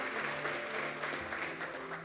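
Church congregation applauding during a worship service, a soft, continuous wash of clapping with a faint tonal hum beneath, steady throughout.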